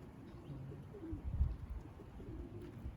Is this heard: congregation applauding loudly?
no